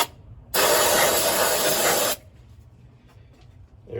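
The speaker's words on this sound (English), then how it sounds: "We'll spray a little bit of carb cleaner in there." Carb cleaner sprayed from an aerosol can into the cylinders of a 1972 Ford F-100 Ranger XLT truck that sat unused for over ten years; one loud, steady hiss lasts about one and a half seconds and then cuts off abruptly, with no talk.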